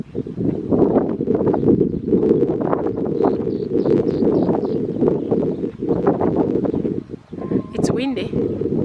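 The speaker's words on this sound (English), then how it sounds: "Windy." Wind blows outdoors at the Akeldama hillside in Jerusalem, a loud, constant gusty roar buffeting the microphone nearly throughout, with a brief lull near the end.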